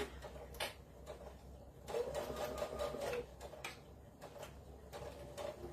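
A domestic sewing machine stitches and back-tacks over a seam on a glasses pod, sounding faint and close in short bursts of rapid ticking broken by brief pauses.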